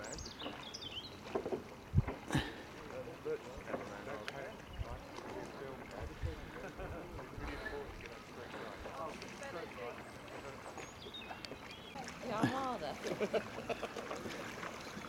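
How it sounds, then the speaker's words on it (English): A punt or small boat is rowed on open water during a Christmas paddle cruise, with splashing oar strokes and water movement under wind noise, while people talk nearby. "adopting a different style of rowing"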